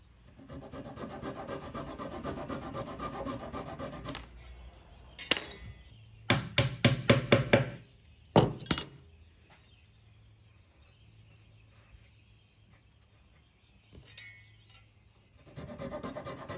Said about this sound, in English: I gave the stand a good sanding all over before applying the finish